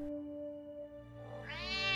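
A cartoon kitten gives a single drawn-out meow that rises near the end, heard alone over a steady low hum, fairly faint.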